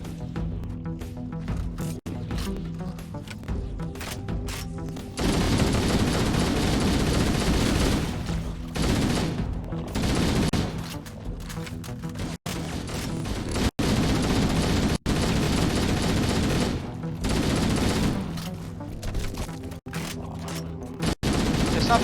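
Assault rifle gunfire in Halo: Combat Evolved, sustained automatic bursts with booming explosions mixed in, loud and continuous with a few brief gaps, over game ambience.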